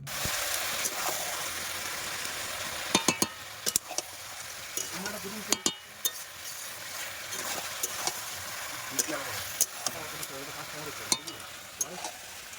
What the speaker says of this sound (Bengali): এখন এটা ভালোভাবে কষিয়ে নেব যতক্ষণ না এর গা থেকে তেল ছেড়ে দিচ্ছে